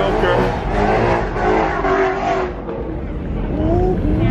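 Cars revving and doing burnouts at a car show, a loud, continuous engine roar with tire noise that swells and dips throughout, with people talking over it.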